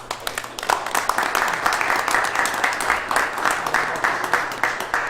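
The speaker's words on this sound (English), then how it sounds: "We'll give you a round of applause." Round of applause at a township committee meeting, steady clapping from a room of attendees lasting several seconds with occasional sharper claps.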